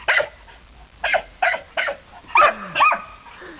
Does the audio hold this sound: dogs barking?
yes